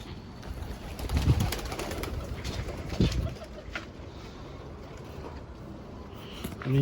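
Pigeons cooing in a loft, a couple of soft low coos rising out of steady rumbling background noise, fairly close but not loud, with no speech.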